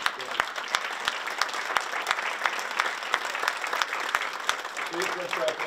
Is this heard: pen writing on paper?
no